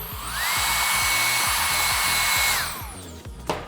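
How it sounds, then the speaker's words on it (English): A handheld blow dryer runs steadily at close range while drying and styling blonde hair, a loud continuous whine that starts up, holds for a couple of seconds, then shuts off, followed by a brief clatter. "I'm gonna take my blow dryer"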